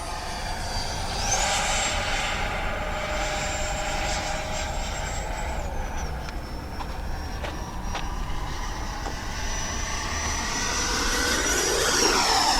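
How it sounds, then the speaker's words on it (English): An FMS Integral 80mm electric ducted fan RC jet flies at half throttle, giving a steady high whine that sweeps in pitch as it passes. The whine is moderately distant and continuous, with no talking. "This is half throttle."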